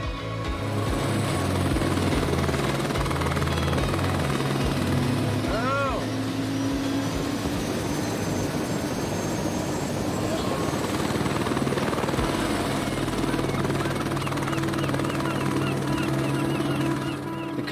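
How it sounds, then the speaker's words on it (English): A helicopter flies among Alaskan mountains, its rotor and turbine a loud, steady, close drone that continues without a break for the whole stretch. "that heli ride up there was so stunning"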